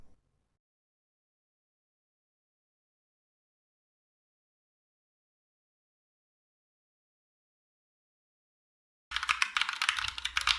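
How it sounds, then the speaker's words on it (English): Typing on a Glorious GMMK White Ice Edition mechanical keyboard, a close, steady clatter of keystrokes that starts abruptly near the end after a long stretch of silence. "Hey, where'd all that typing go?"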